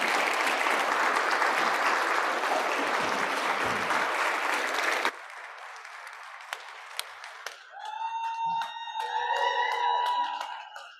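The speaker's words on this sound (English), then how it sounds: "So round of applause." An audience at a panel discussion on Indigenous youth entrepreneurship gives dense, loud applause for about five seconds, which then cuts off abruptly, followed by quieter sounds.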